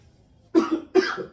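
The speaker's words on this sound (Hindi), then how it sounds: "आज खांसी ज्यादा आ रही है" Two short coughs in quick succession, close and fairly loud, in an otherwise quiet room.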